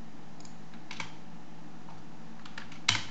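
A few short bursts of keystrokes on a computer keyboard, quiet and close, tap out a Linux terminal command amid light background hum, ending in one sharper key press.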